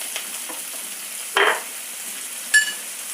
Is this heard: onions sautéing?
yes